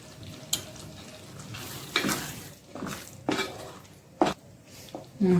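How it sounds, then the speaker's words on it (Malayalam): Ghee is poured into thickened payasam in a pan and stirred. A spoon scrapes and clinks against the pot in irregular, close bursts over a soft background. "ഇതിൻ്റെ അകത്തേക്ക് കുറച്ചും കൂടി നെയ്യ് നമുക്ക് ഒഴിച്ചു കൊടുക്കാം"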